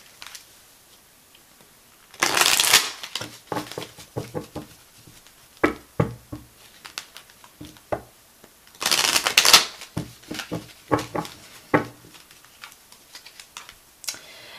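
Oracle cards are shuffled in two loud riffling bursts, separated by scattered taps and soft flicks of cards being handled and laid down, close to the microphone in an otherwise quiet room.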